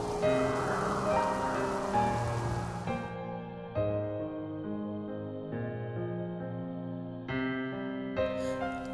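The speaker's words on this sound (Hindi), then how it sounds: "जब फसल काटने का वक्त आया, जोर की बारिश हुई" Heavy rain pours down on a farmer's field at harvest time. It makes a loud, steady hiss for the first three seconds, with music playing throughout.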